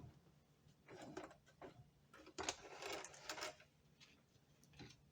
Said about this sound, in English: Back and forth stitch in the end.